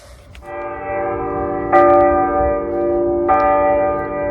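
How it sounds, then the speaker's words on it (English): Church bells ring out at six o'clock, sustained resonant bell tones with a fresh strike about every one and a half seconds, loud and close, with no talking. "Well, that's the end of the 6 o'clock bells."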